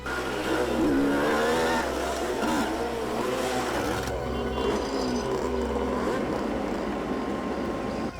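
Motorcycles pulling up in a street scene, engines droning and revving loudly and continuously, with layered pitch sweeps as the bikes arrive and idle, no speech over it.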